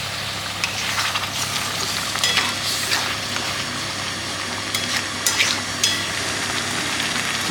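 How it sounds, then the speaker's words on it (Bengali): Spice paste for a paneer, small potato and chicken curry is stirred and fried in a pan with a splash of hot water, giving a steady close sizzle broken by scraping strokes of a spoon. "এখন মশলাটাকে সুন্দর করে কষাতে হবে।"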